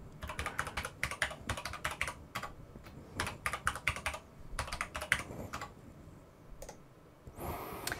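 Fingers type a password on a computer keyboard, producing close, crisp clusters of rapid key clicks with short pauses between bursts and a final longer press.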